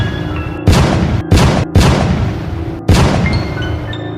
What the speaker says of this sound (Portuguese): pegou sua pistola e efetuou 5 disparos na fera